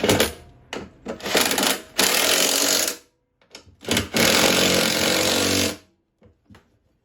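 A power tool tightens the back auger bearing on a Cub Cadet/MTD snowblower, firing in two long whirring, rattling bursts with short stutters between them, close and loud, then ending in a few faint clicks.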